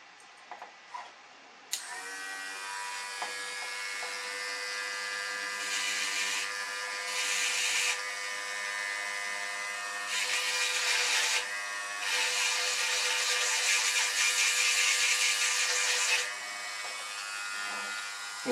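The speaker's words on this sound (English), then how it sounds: "it takes some fine grinding to get rid of the rest" Fine grinding on a part of a 1/350 Trumpeter scale model of the battleship Tsesarevich, a close, high buzzing whine that starts abruptly and rises and falls in bursts before stopping.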